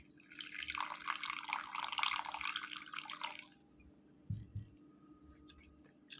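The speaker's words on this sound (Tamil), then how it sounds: "சேர்த்துட்டு தண்ணீர் விட்டு இதை கரைச்சிக்கலாம்." Water poured from close by into a bowl of cornflour and salt, a splashy, trickling pour lasting about three seconds, then near quiet with a couple of soft knocks.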